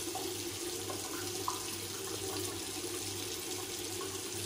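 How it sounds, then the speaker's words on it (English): Water runs steadily from a tap into a sink while a face is rinsed, a constant faint rushing wash with no breaks or talk. "Let's rinse off the face."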